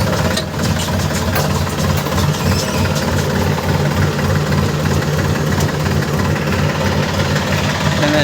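A tractor engine runs loudly and steadily with a heavy knocking diesel chug as it reverses in a rain-soaked field during fertilizer spreading.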